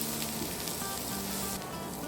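Onions sautéing in a pan for a South Indian onion thuvayal, giving a steady, close, unbroken sizzle and crackle with no voices.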